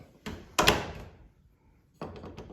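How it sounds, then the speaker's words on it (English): A household door shuts solidly from the outside, its latch catching with a firm thunk: a sharp impact followed by a second louder slam-like knock, then a short rattle of hardware a moment later, close and clear with no voices. "You even get a solid close from the outside."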